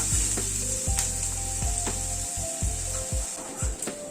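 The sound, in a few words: onion frying in a pan over a gas flame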